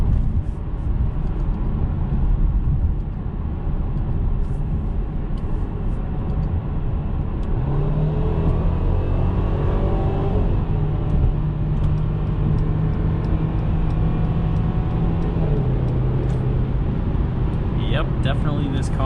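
A 2021 Mercedes-Benz C300 accelerates in sport mode, its engine a steady low drone over road rumble that climbs in pitch mid-run and drops at a gear change near the end.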